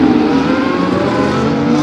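Formula 1 race cars at the Monaco Grand Prix, late in the race on lap 71, give a loud, steady high-pitched engine whine that holds for about two seconds with a constant roar and no talk.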